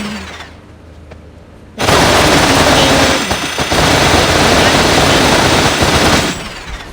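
Loud, sustained rapid machine-gun fire bursts in suddenly and rattles on for several seconds, dense and continuous, then cuts off, in the video game Melon Playground.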